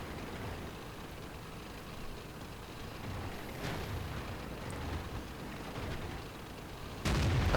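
Heavy tank in a World of Tanks–style battle rams an IS-3 and fires, a dense low rumble of engine and impact noise followed by a sharp loud cannon blast near the end.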